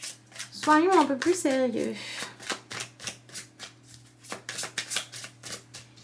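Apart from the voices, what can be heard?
shuffling a deck of cards for a card reading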